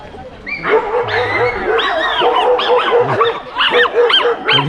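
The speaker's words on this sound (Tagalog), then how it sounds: "Galit na galit siya. Galit na galit yung aso." A dog barks and growls angrily in rapid, harsh bursts close by, outdoors at a flower garden picnic, with people talking in the background.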